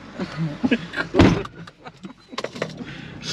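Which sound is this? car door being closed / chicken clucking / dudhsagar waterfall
car door being closed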